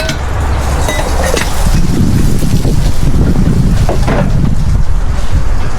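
Strong wind buffets the microphone in a steady, loud rumble at a campsite, with broadband gusting noise and what sounds like water or a boat's motion underneath.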